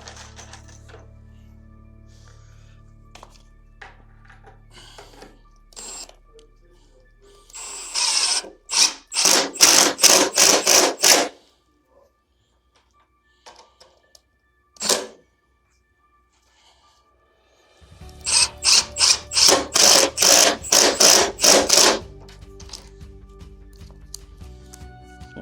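Power drill driving A screws into the side of a double-hang closet unit, with two loud bursts of rapid pulsing impacts, a brief single blip between them, and long quiet gaps.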